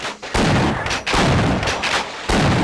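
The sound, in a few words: gunfire in video game Half-Life: Decay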